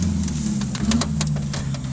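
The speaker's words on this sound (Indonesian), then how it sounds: "Mesin kering berdenting." A 1990 Daihatsu Taft GT idles steadily with a dry, metallic engine ticking, a low continuous rumble with faint rapid clicks, close and fairly loud throughout.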